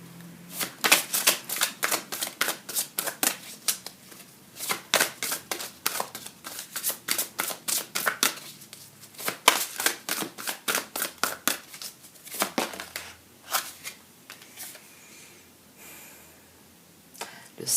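Tarot cards shuffled for a reading, a long run of crisp riffling flicks in quick rhythmic bursts, close and fairly loud, with brief pauses between rounds and no talking.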